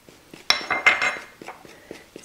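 A spoon stirs wheat and whole wheat flour in a bowl, giving a bright clink followed by soft scraping and light taps, close and fairly quiet, with no talking.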